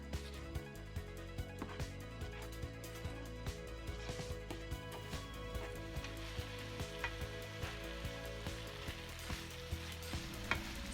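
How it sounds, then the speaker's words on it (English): Fried baby corn being stirred into Indo-Chinese Manchurian gravy in a pan, a quiet, continuous sizzle broken by repeated soft scraping and clinking from stirring, with no voices. "then I will be adding the fried baby corn, which I've kept aside, into this and mix them all real nice"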